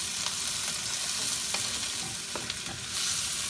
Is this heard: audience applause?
no